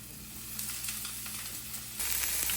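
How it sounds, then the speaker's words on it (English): Food sautéing in a pan over high heat, sizzling steadily and close, growing louder near the end as the contents are stirred. "It's the sizzle for me. I'm gonna give it a quick little saute."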